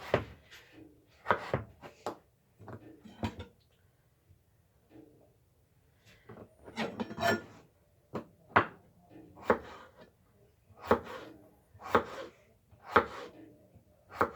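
A knife cuts potatoes in half and then into thick steak fries on a board, a series of sharp thuds arriving in uneven clusters with short quiet gaps between them.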